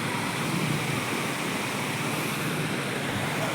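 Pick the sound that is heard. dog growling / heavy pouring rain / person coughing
heavy pouring rain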